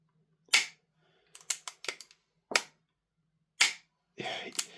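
Trigger and action of a CYMA Colt CAR-15 gas blowback airsoft rifle: a series of sharp isolated clicks and snaps, some single and some in quick clusters, close up with silence between, ending in a rougher mechanical rattle.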